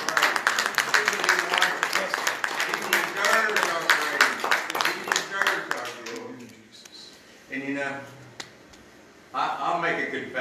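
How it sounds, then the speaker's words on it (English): A church congregation claps in praise during a worship service, loud sharp claps for about six seconds before thinning into sparse claps under a speaking or singing voice. "Give him a hand clap."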